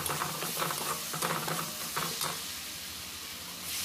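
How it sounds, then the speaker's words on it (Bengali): Spice powders fry in a pan over low gas for a Bengali potol (pointed gourd) and potato curry, a soft sizzle with quick patter-like scraping from stirring close by, easing off toward the end. "দিয়ে ভালো করে এইভাবে একটু নাড়াচাড়া করে মশলার সঙ্গে ভেজে নিতে হবে"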